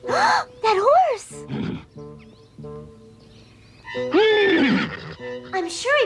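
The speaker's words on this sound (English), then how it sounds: "That horse!" A horse whinnies loudly several times, close by, with shrill rising and falling cries separated by short pauses, in an animated cartoon.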